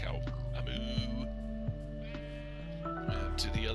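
Blocky sheep in Minecraft bleat a few times in a creative-mode garden, the calls sitting over steady game music and background talk.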